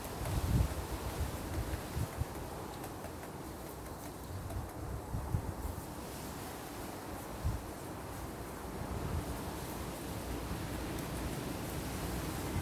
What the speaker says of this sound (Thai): ลมแรงค่ะ ลมแรงมาก